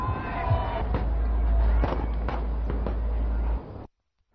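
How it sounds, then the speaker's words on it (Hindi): A large crowd at a Ravana effigy burning during Dussehra celebrations by a Ramlila committee in Haryana, a loud, continuous roar of cheering voices with scattered sharp firecracker-like bangs, cutting off abruptly near the end. "यहां भीड़ उमड़ी।"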